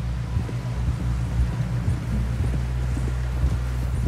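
A horse in Red Dead Redemption 2 moves along with steady rhythmic hoofbeats close by, under wind and low ambient rumble, with no talking heard.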